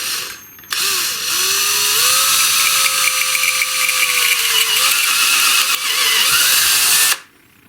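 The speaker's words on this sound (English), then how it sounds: "I want to drill out these two holes on the plate to about 9/64" A power drill with a 9/64 bit whines steadily while boring holes into a metal Telecaster guitar plate, with a high grinding squeal that holds for several seconds before stopping abruptly.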